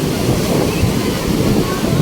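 Sea waves wash onto a beach in a steady, loud roar, mixed with gusty wind buffeting the microphone and voices partly audible.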